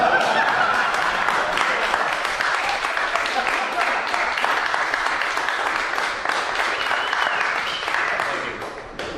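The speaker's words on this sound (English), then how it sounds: "You may clap." A poetry reading audience breaks into sustained applause, dense clapping at steady loudness that tapers slightly near the end.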